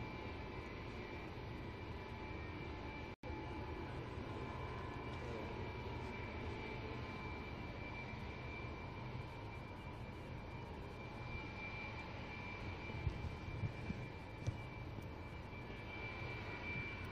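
Engines of a Y-20 military transport aircraft at Wuhan Tianhe Airport make a steady, loud droning roar with a constant whine, continuous throughout.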